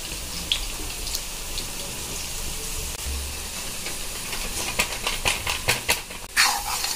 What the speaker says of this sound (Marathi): हे आपल्याला छान प्रकारे फ्राय करून घ्यायचं आहे।